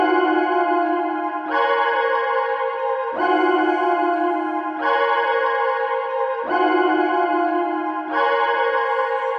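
Analog Lab synth preset loop at 145 BPM, a bright, harmonically rich chordal pad with effects, restarting in regular phrases about every 1.6 seconds, loud and steady with no voices.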